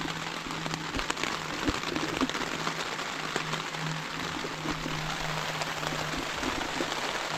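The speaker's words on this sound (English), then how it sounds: "Looks like the rain's here to stay" Steady rain falls throughout on the Appalachian Trail, a dense hiss of drops pattering on a surface, with a low constant hum underneath and no voices.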